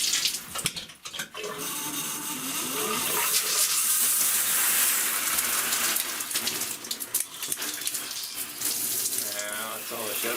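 Water streams steadily from a newly installed shower head in a cabin bathroom, a loud continuous hissing spray that fills the whole stretch with small fluctuations and no talk.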